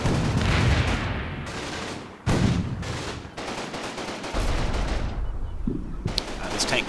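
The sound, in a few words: tank cooking off with explosions in Combat Mission video game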